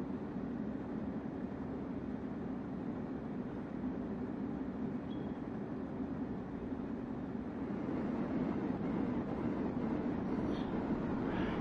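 A train running in the video game Train Sim World 3, a steady low rumble of wheels and engine rolling along at an even level throughout, with no voices over it.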